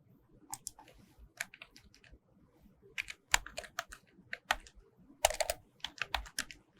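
Someone types on a computer keyboard in irregular bursts of crisp clicks and keystrokes, close and fairly quiet, with no talking.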